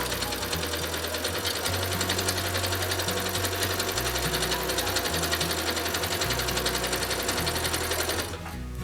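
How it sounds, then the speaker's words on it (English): A sewing machine stitches fabric in a steady, loud mechanical whir with a fast rhythmic clatter, briefly shifting pace during back-tacking before slowing near the end. "Whenever you're ready, you just get started with a few stitches, do some back stitches to back tack, and then go ahead and sew."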